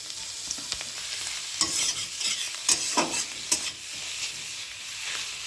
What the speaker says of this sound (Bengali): মাশরুমটা একটু প্রথমেই ভেজে নিলাম